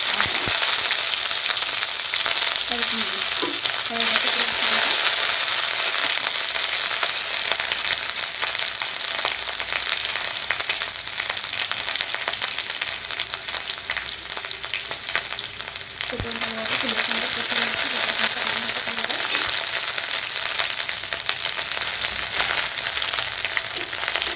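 Bay leaf, two dried chillies and five-spice hit hot oil for a Bengali pui shak ghonto, producing a loud, unbroken crackling sizzle that holds steady throughout.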